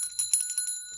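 A small handheld bell rings in a quick run of bright metallic jingles, close and clear, with no talking over it.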